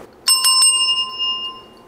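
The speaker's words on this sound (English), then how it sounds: "ring a bell over your ritual space" A small hand bell is rung over a ritual space, several quick bright strikes close to the listener whose clear ringing tone lingers and fades over a quiet background.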